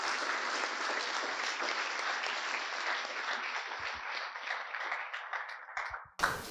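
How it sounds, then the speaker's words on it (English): Audience applause for Sophie at an IEEE Jamaica event, a dense, steady roar of many hands clapping close by for about six seconds before cutting off abruptly. "Round of applause again for Sophie."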